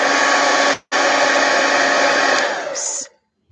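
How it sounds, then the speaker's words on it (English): A heat gun blows on wet gesso with a loud, steady roaring whoosh, cutting out briefly near the start, then running again before tapering off and switching off, alone with no talk. "Heat gun."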